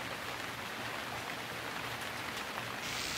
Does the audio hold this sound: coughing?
no